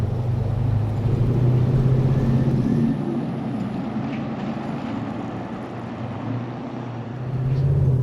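A 1970 Chevelle SS with a 502 big-block V8 driving, a deep, loud engine drone and rumble that eases off midway and then swells again toward the end.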